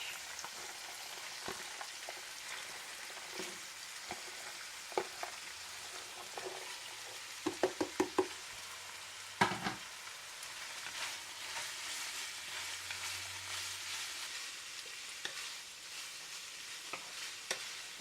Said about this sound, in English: Fry till your cabbage start to get less, because it's all cooking down, and mix it well so that all your oil will get onto your cabbage.